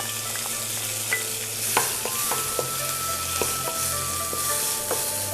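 Vegetables stir-frying in a pan for fried rice, a steady close sizzle broken by scattered clinks and scrapes of the utensil against the pan.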